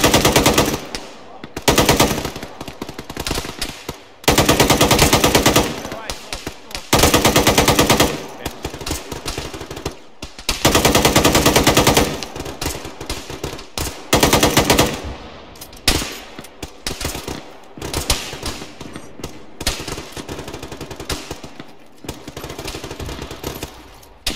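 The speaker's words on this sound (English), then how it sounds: "It allows me to bring my AR and put down fire on the AI that are attempting to close and overwhelm us" Assault rifle fire in a military video game, loud close bursts of automatic shots repeating in long strings with short gaps between them, steady throughout.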